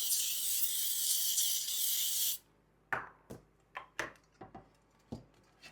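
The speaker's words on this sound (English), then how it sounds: "now I'm going to spray the sides of my pan" A steady hiss of cooking spray on the sides of a cake pan lasts a couple of seconds, then stops, followed by several light knocks and taps of the pan being handled.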